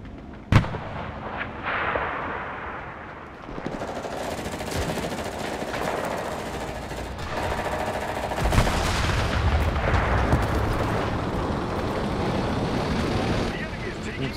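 Gunfire and tank cannon shots from the video game Enlisted, a dense continuous battle din with a sharp blast near the start and a heavier boom mid-way, rumbling steadily throughout.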